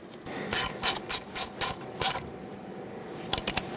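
A ratchet tightens a 10mm bolt on a brake hose bracket at the steering knuckle of a 2007-2014 Chevrolet Silverado 2500 HD, giving six close bursts of quick clicking, then a short trailing pair near the end.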